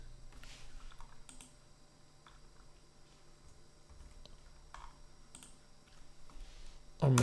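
Computer keyboard keys pressed during a word-processing task in a class setting, quiet scattered clicks at an uneven pace, with a louder burst of noise at the very end.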